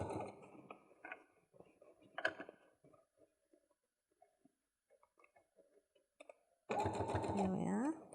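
A sewing machine stitches a straight seam across the lining of a makeup bag, a loud steady whirring burst near the end after quieter handling and soft talk.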